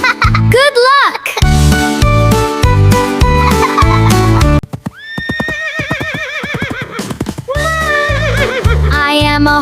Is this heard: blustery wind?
no